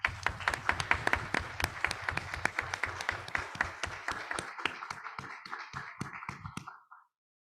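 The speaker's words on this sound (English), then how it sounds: "We just have another round of applause for our students" Applause for students at a township board of education meeting, a moderate round of clapping from a small audience with distinct individual claps that thins out and stops after about seven seconds.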